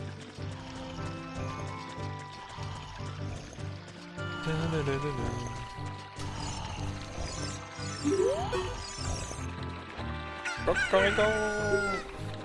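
A cartoonish rooster crows in The Legend of Zelda: Ocarina of Time, with its rising calls near the end over steady game music, and voices talk through the clip.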